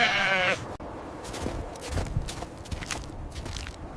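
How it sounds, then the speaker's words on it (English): An Arctic mountain goat lets out a short, loud bleat, followed by soft scuffling steps and rustling close by. "Medium snowy Arctic mountain goat."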